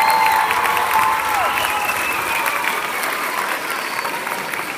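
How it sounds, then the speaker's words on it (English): Applause rises from the audience at a school spring fine arts showcase for two MCs, loud and dense at first and easing slightly, with a few faint cheers and whistles mixed in. "Let's give a round of applause to our two MCs."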